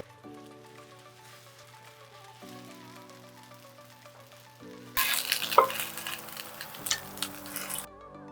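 Whipped tofu omelette cooking in a covered pan, a soft steady sizzle that swells louder partway through, heard alone over faint background music.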